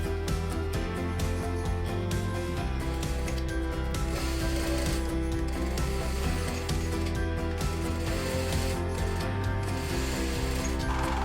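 A sewing machine stitches the seams of a vintage-style dress, running in a steady, dense mechanical whir with rapid clicking needle strokes throughout, close and continuous.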